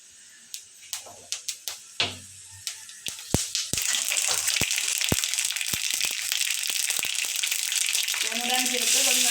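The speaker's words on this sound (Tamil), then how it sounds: "வெந்தயம் பொன்னிறமாக வருந்தனையும் விட வேணும்" Fenugreek seeds crackle and sizzle in hot oil for a yam curry, starting with scattered pops and clicks that swell into a steady, close frying hiss.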